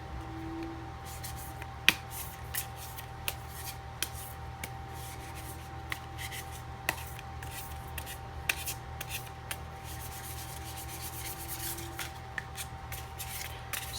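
Tarot cards shuffle softly and steadily at close range, a faint continuous riffling broken by small sharp taps and flicks, with no talking.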